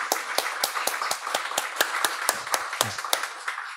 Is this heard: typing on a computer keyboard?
no